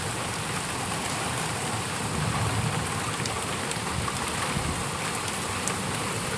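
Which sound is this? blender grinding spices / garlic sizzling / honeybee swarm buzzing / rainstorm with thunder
rainstorm with thunder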